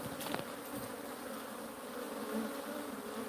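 Honeybees fly around up in barn rafters, a steady, dense buzzing drone that holds at even loudness throughout, with no talking.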